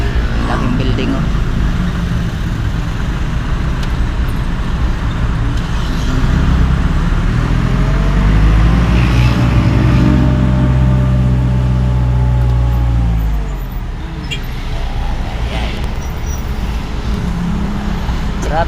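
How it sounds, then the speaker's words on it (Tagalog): Road traffic rumbles near a bridge, with a continuous low drone of passing cars and a heavier vehicle swelling louder in the middle before easing off; no clear talk over it. "Traffic."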